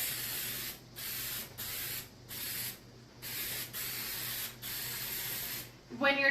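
Paint sprays from a can onto a surface in about six short, close hissing bursts separated by brief pauses, with a faint bit of handling noise at the end.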